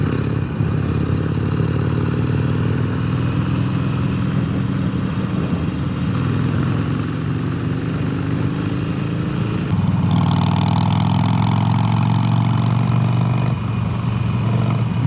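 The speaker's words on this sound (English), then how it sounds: "I mean, it actually sounds like a Harley, what I expected a Harley to sound like." A Harley-Davidson Iron 883 motorcycle with an aftermarket exhaust idles up close, a loud, loping low rumble that steps up briefly in revs partway through before settling back.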